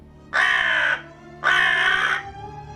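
A crow caws twice, loud and close, each harsh call lasting about half a second with a brief gap between, against quiet background hum, during a reading of Poe's The Raven.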